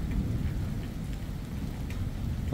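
Heavy rain falls steadily during a strong summer thunderstorm, a dense continuous wash of noise with low rumbling, moderately loud and without voices.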